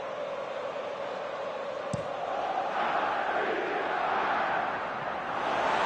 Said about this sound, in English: it's good to see that the crowd appreciate his efforts